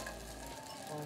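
Sea bream tempura frying in hot oil, a steady close bubbling sizzle with no voices over it.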